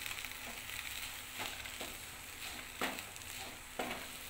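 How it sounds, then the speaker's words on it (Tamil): Drumstick (murungai) leaves are stirred and sautéed in a pan, giving a faint steady sizzle with soft scraping strokes of the spoon recurring roughly every second. "முருங்கைக்கீரை ரொம்ப வதக்க வேண்டாம், லைட்டாக வதங்கினா போதும்"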